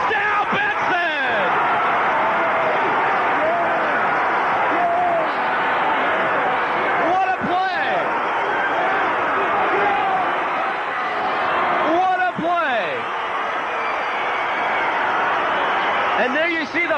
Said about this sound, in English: And there you see the Benson crowd.